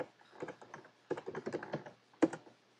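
Quick clacking keystrokes on a computer keyboard while editing the hostname file of a Raspberry Pi, coming in irregular bursts with short pauses, close and moderately loud, with no talking.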